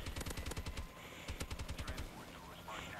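Rapid automatic gunfire in the Advanced Warfare team deathmatch video game, fast loud bursts with a pause between volleys, with a voice talking over the shooting.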